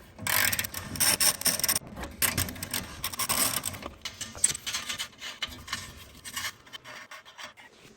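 A ratchet with a deep 15 mm socket works bolts on a Porsche Boxster 986 during transmission removal, giving a dense run of close mechanical clicking and rattling in irregular bursts with no talk.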